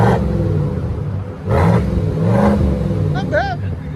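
A Chevy Silverado High Country with a 5.3L V8 and a Borla Touring exhaust with an added tip rumbles at idle, then swells in two short revs, with someone talking over the engine.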